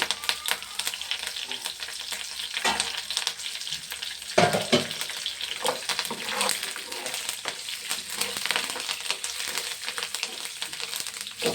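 Curry leaves hit hot oil and set off a loud, steady crackling sizzle that holds the whole time, with a sharper spatter burst partway through as the leaves drop in.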